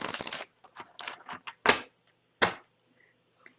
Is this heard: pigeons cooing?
no